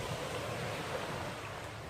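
Sea waves wash onto an island beach in a continuous, faint hiss of surf mixed with soft wind noise. No voices are heard.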